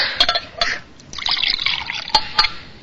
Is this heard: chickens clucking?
no